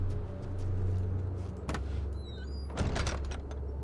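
A door opens in the horror game Amnesia: The Dark Descent, with a dull knock, a short creaking squeal and a thump over a low droning ambience.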